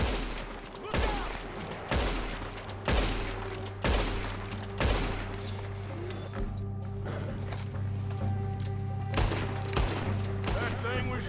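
Gunshots crack out in a scattered volley, roughly a dozen sharp reports spaced irregularly over a rumbling, noisy background, some closer and louder than others, with no clear talking.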